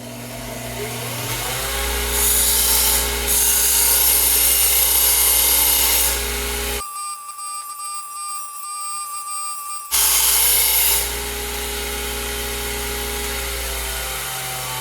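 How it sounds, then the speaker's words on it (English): Loud, continuous abrasive grinding of a steel bandsaw blade, steady for several seconds, briefly cutting out midway before resuming at full strength. "we're going to go ahead and grind all of these sharp points off of this bandsaw blade"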